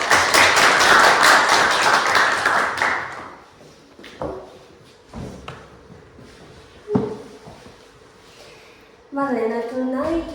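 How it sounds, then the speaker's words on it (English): Applause from a Toastmasters public speaking meeting audience in Cluj: loud, dense clapping for about three seconds, then it dies away into scattered taps and quieter room sounds. "Please give her a huge round of applause for Julia."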